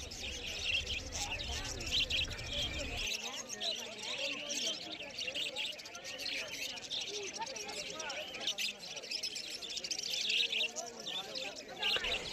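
Lovebirds and Bengali finches chirping at a busy pet market, a dense continuous chorus of bright tweets throughout, with a low background hum at the start and someone talking over it.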